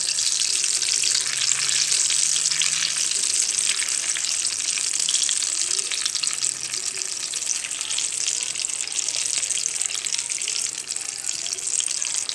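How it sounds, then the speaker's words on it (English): Cuban potato balls frying in a pan of hot oil, a steady, dense crackling sizzle that runs unbroken and loud throughout, with no voices over it. "So let's go ahead and finish cooking these up. See how brown they're getting on the other side?"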